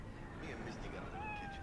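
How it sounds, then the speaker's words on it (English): A cat meows in the video game Cyberpunk 2077, a short rising mew heard faintly beneath steady game ambience and a person talking. "oh, there's a cat. Can I pet it?"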